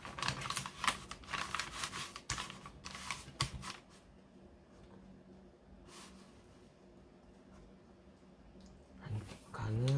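Scissors snip through paper while a flasher spinner is folded: a quick run of crisp, close cuts and rustles, then a quieter stretch with a single snip and paper handling at the end.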